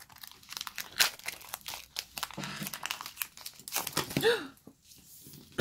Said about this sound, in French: On va ouvrir ce booster.